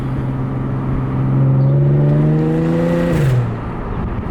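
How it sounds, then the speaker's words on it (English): An Audi S4's warmed-up engine idles, then revs up smoothly to a sustained higher pitch and drops back down, close and loud, with no talking. "give you guys a clear sound of what it actually like to drive this car"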